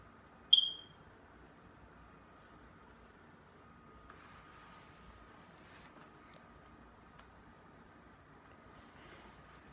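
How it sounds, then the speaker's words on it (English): A smoke detector with a low battery gives one brief, high electronic chirp near the start, followed by a quiet room with faint background noise. "I have to change the battery in my smoke detector."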